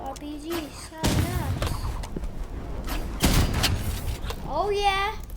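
RPG and shotgun fire in the Roblox Rivals video game: heavy booming blasts and crackling bursts over synthetic game effects, with a voice talking over parts of it.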